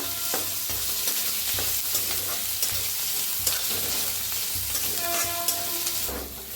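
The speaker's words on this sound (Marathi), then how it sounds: "ते बी असं भाजून घेऊया छान असं त्याला भाजून घेऊया" Seeds together with crushed chilli, garlic and peanuts roast in a pan on the stove, a steady close sizzle with scraping stir strokes running throughout, no voices.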